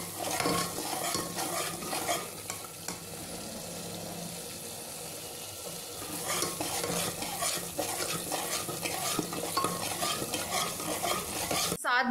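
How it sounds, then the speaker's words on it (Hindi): Spice masala for a jackfruit curry fries in a pan, giving a steady soft sizzle with repeated stirring scrapes throughout, fairly quiet and close, with no one talking. "और अभी मसाला भुन रहा है।"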